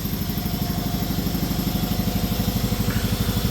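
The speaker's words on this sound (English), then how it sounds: "Of course, there goes the compressor." An air compressor powering a 10-ton air hydraulic press runs with a loud, close, steady pulsing chug of rapid even beats throughout.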